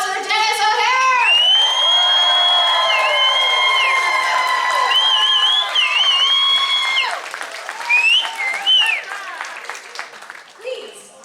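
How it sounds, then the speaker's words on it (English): An audience at a Spooky Empire convention Q&A panel applauds and cheers for American Horror Story actor Denis O'Hare: loud clapping with high whoops and shouts, peaking early and then thinning into scattered cheers. "Big round of applause for Denis O'Hare!"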